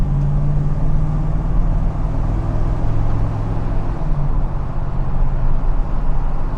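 A 1970 Chevrolet El Camino Custom with a 350 V8 driving down the road, a close, steady engine drone and road rumble with a low hum holding through the whole run and no talking.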